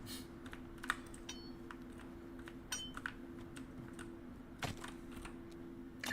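Scattered, faint clicks of typing on a computer keyboard, irregular keystrokes tapping in quick runs with short gaps, quiet and close over a low steady hum.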